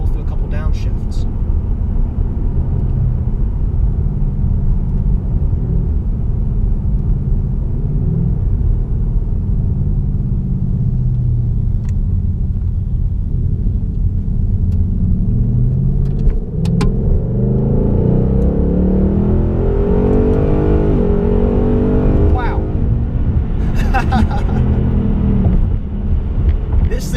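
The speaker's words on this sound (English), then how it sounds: "But let's kick it into sport mode and roll through a couple downshifts." A 2018 Ford Mustang GT with a 10-speed transmission and Performance Pack, in sport mode, rumbles steadily from inside the cabin. Its engine note rises through a couple of downshift blips, and a person talks over it much of the time.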